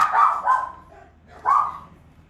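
A dog gives two close, loud barks, the second after a short pause, in an otherwise quiet setting.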